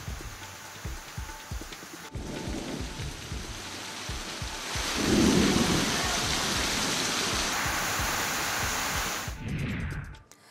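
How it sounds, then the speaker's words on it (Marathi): Heavy rain pours steadily with a dense hiss in a windy storm, while deep thunder rumbles and rolls through the downpour, swelling loudest midway before easing. "वादळी वाऱ्यासह झालेल्या पावसामुळे अनेक भागात झाडांची पडझड देखील झाली आहे"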